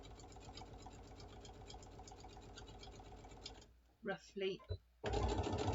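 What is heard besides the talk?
sewing machine sewing a bottle bag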